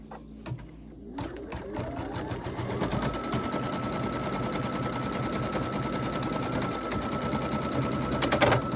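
An embroidery machine stitches a name onto a hand towel, starting with a few clicks and then running as a steady, fast mechanical chatter with a rising whine that holds to the end.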